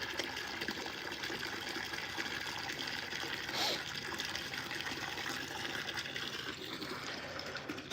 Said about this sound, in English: So what I'll do is I'll fill up this water trough over here